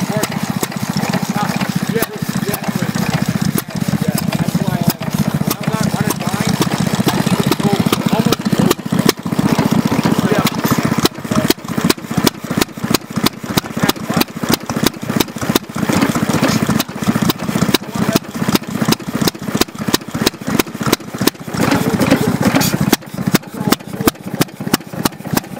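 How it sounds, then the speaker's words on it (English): Old engines running at the Jacktown engine snow show on a frozen winter morning, a dense steady chugging drone with rapid rhythmic exhaust pops, loud and continuous throughout. "starting their engines up."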